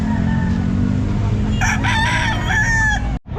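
A full-grown stag rooster crows loudly at a pet market, one drawn-out crow rising over a constant low rumble of background noise before cutting off abruptly.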